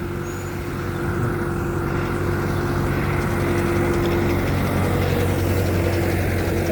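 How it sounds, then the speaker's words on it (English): A tractor drives along a beach at Panglao in the Philippines, its steady low engine drone holding close and even throughout, no voices over it. "Tractor's coming through"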